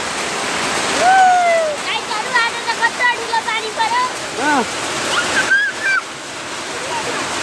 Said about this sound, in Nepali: कत्रो पानी पर्यो ठुलो है